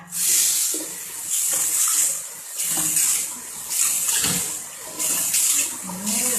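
Water splashing as a face is washed at a sink, arriving in repeated close bursts about once a second with brief pauses between handfuls.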